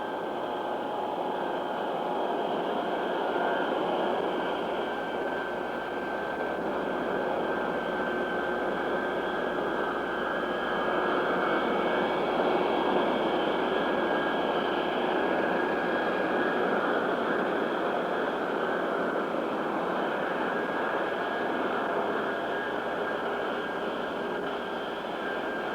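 Boeing 707 Stratotanker jet engines whining and roaring steadily as the aircraft taxis out, a continuous loud drone with tonal whine and no talk.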